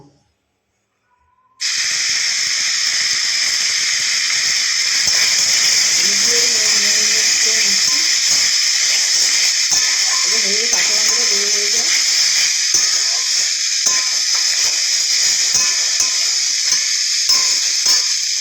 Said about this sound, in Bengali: ভাজতে ভাজতে পেঁয়াজটা প্রায় নরম হয়ে এসছে